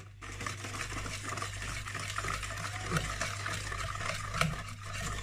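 A spoon circles steadily through cake batter as warm milk is stirred in, giving a soft, continuous swishing scrape with faint clinks against the bowl under a low background hum.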